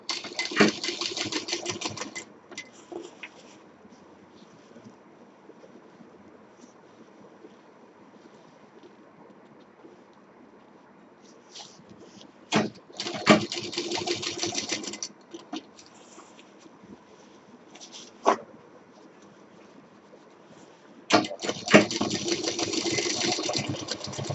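A sewing machine stitches piping along a cloth bag in several separate bursts of rapid mechanical patter, with quiet pauses between runs.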